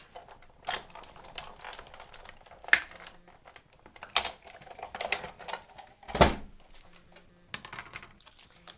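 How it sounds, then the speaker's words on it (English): A paper card with an embossing folder is cranked through a manual die-cutting and embossing machine, producing irregular mechanical clicks, clunks and ratcheting knocks, close and fairly quiet, with no talking. "hold it down in place, and run it through the embossing folder"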